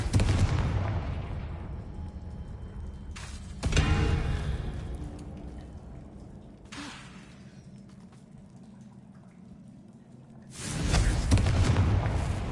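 Confringo fire spells burst in a video game as loud booming explosions, one at the start, another near four seconds and a third near the end, each followed by a long rumbling decay.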